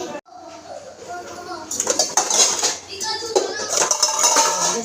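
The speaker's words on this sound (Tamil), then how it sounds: "கழுவி அந்த கூடையில் கவுத்திடணும்" Dishes being washed with a scrubber and soap, then turned upside down into a basket, giving clattering clinks of metal pots and plates at close range, with broadband rinsing and scraping noise that grows busier in the second half.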